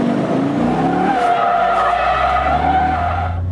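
A Holden HSV W427 muscle car's tyres screech continuously in a long, loud skid while doing donuts, the engine roaring underneath, the squeal wavering as the car keeps sliding.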